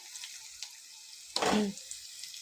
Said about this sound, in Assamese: তেলতে কেইটামান পাঁচফোৰণ আৰু জলকীয়া আৰু পিঁয়াজ দিছোঁ